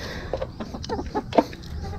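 Backyard chickens cluck in short, irregular bursts, close and fairly loud, with one sharper squawk near the end.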